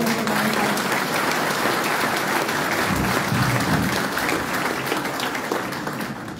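Audience at a civic ceremony in Postiglione applauding the press, a full, continuous patter of many hands clapping, steady and close before easing slightly near the end.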